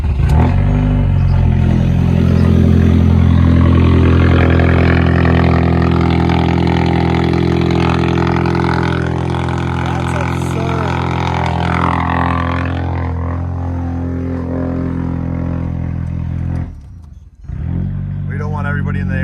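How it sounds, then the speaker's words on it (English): An Audi TT cold-starts and settles into a loud, high idle, with strong layered engine drone and people talking over it, before the noise briefly dips and cuts near the end. "gotta film an epic cold start on the TT"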